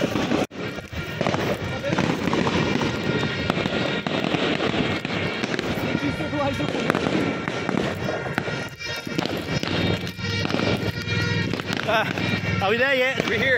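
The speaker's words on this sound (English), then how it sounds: "We're chasing fireworks." Continuous crackling and popping bursts of fireworks at a Merdeka celebration in Penang, loud and dense, with wind noise on the microphone and people talking and shouting over it.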